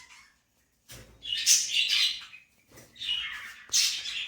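Young pet birds give harsh, shrill squawks in two loud bursts separated by short pauses. The calls are close and continuous within each burst, with no speech.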